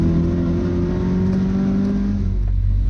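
An Ecotec-engined Miata sports car accelerates on a race track, a loud sustained engine drone that climbs steadily in pitch, heard close from inside the car.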